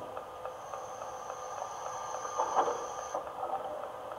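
A door-opening sound effect from a Fleischmann ICE BR 407 model train, a faint steady whine with soft clicks and a short hissing swell, alone and quiet.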